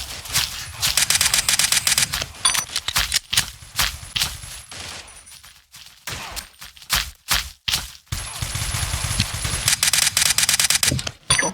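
Gunfire from the blocky shooter game Blockade comes in loud, rapid automatic bursts, with short pauses and single shots between the volleys.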